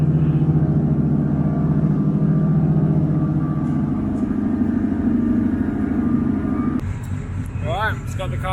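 A car's engine idles steadily with a low, continuous rumble, the wing back on it after final touches, until it cuts to quieter ambience near the end.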